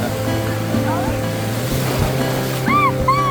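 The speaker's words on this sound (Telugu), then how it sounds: "వేవ్స్ eh, అయితే చాలా బాగా ఫుల్ వస్తున్నాయి" Surf washes steadily on Kandoli beach with a low rumble of wind, while people chatter nearby and a few short bird-like whistles come near the end.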